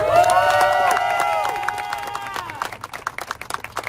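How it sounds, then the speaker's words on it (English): A large outdoor crowd at a protest claps and cheers, with a sustained swell of voices and whistles fading into scattered, sharp handclaps. "there are tens of thousands of people cheering him on"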